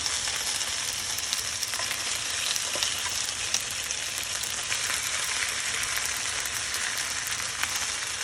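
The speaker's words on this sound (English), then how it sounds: "Throw it in there. You'll flip the sides later on. Every side gets nice and seared and brown." Pork dumplings sear in a hot frying pan with a steady, close, loud sizzle and crackle that holds evenly throughout without pause.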